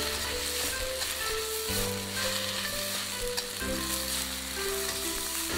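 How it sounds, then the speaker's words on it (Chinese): Spinach and garlic stir-fry over high heat in an oiled wok, giving a steady, loud sizzle that runs through the whole stretch, with occasional stirring noises. "开大火把菠菜炒软"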